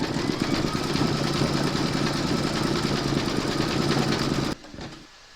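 An embroidery machine stitches sunflower coaster petals in bright yellow thread, a steady close mechanical whirring that runs continuously before cutting off abruptly near the end, leaving quieter residual noise.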